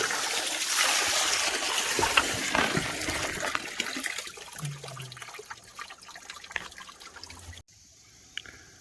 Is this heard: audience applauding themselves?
no